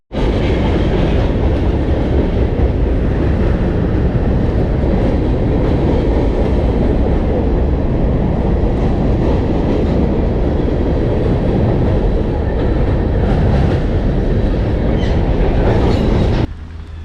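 A loud, continuous train passage close by, heavy rumbling with rhythmic clatter of wheels over the rails overhead at a fishing spot by clear water, cutting off abruptly near the end.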